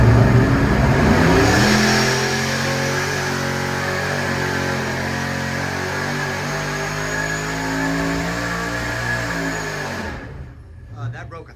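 A stock-block, stock-crank small block Chevy V8 making over 1,000 horsepower roars loudly on an engine dyno, holding a sustained high-rpm pull for about ten seconds before cutting off abruptly into a brief quiet tail.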